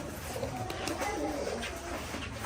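Domestic pigeons coo in low, soft repeated murmurs inside a loft, fairly close but quiet against a steady background hiss.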